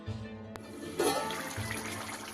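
Water is poured into a pan of cooking Bhola fish curry with cauliflower and potato, a sudden close rushing splash that settles into a steady liquid hiss, with no talk.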